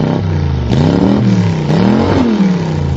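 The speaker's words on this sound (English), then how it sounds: "The car begins to make a loud revving noise." A car engine revs loudly and continuously, its pitch rising and falling in repeated surges over a steady throaty rumble, close and alone with no voices.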